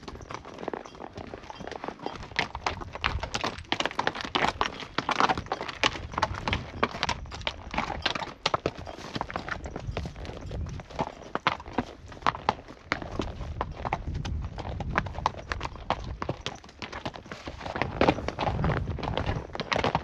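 A horse's hooves clip-clop steadily along a high-altitude trail through scrubby pines in the American West. The hoofbeats are close and continuous, with occasional heavier steps and no talk.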